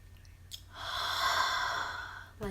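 A voice mimics the labored breathing of a person near death, drawing out one long, raspy, hissing breath after a brief sniff, with a short vocal sound at the end; quiet and close.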